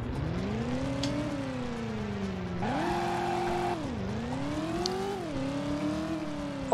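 A car engine in the driving game Driver: You Are the Wheelman, a steady whining drone whose pitch rises and falls as the vehicle reverses, loud and continuous throughout.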